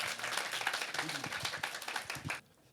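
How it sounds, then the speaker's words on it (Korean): Applause from an audience at a Korean social-value festival forum, a steady broadband wash of clapping that carries on for more than two seconds before cutting off abruptly, with faint voices mixed underneath. "큰 박수 다시 한번 부탁드립니다."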